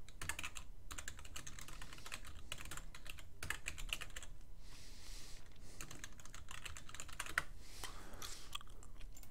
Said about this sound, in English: so just type it out.